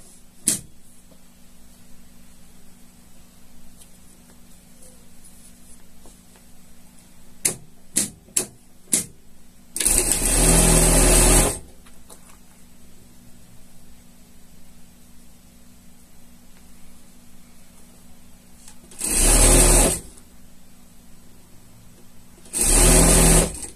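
Sewing machine topstitching a shark costume hood, three short loud bursts of rapid whirring stitching separated by quiet pauses and a few sharp clicks.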